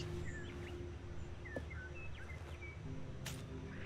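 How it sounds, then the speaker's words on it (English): Birds chirp outdoors in the video game Stanley Parable Ultra Deluxe: scattered short tweets and whistles over a steady low ambient hum, moderately distant, with a brief louder chirp burst near the end and no talking. "Man, you hear the birds out there?"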